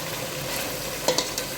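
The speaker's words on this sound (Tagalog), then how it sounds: "Ginisa ko lang ito guys ng maraming bawang, sibuyas, luya." Garlic, onion and ginger sizzling in a frying pan, a steady close crackle broken by a few scraping clicks of a utensil stirring.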